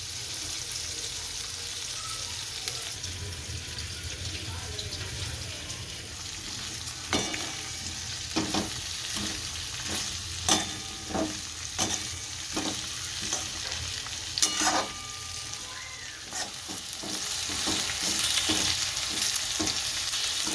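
Stuffed okra fries in oil over a low flame while a spoon stirs it, with a steady soft sizzle and irregular clicks and scrapes from the stirring. No one talks.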